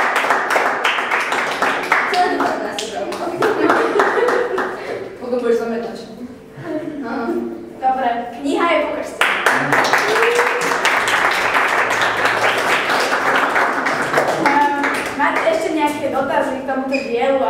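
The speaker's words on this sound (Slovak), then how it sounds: "Potlesk." Audience at a book launch breaks into sustained applause, clapping steady and dense for most of the stretch, with a brief dip mid-way and voices mixed in underneath.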